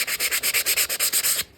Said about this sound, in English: Sanding will give you different texture.